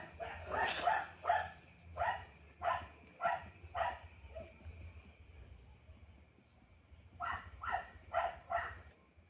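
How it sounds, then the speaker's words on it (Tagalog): A dog barks somewhere off at a distance, a string of about six barks, a pause, then another quick run of barks. "Aso ng kapitbahay natin tumatahol."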